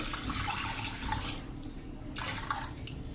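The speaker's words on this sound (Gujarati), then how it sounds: "એને આપણે આ એક વેઠો ડૂબે ને એટલું પાણી નાખીને પલાળી દેશું" Water poured over half a cup of lentils to soak them for dal dhokli: a close, splashing pour that briefly thins partway through, then resumes, with no speech.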